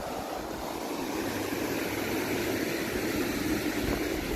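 Steady broad rush of water flowing at Mammoth Spring, a continuous even wash with no voices, close and moderately loud throughout.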